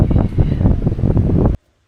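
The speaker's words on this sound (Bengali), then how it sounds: "সমুদ্রের পাড়ে বসে বাতাস খাওয়ার মজাই আলাদা" Steady gusting sea breeze on a beach buffets the microphone in a loud, continuous rush for about a second and a half, then cuts off abruptly to near silence.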